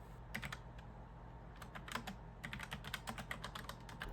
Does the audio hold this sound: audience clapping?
no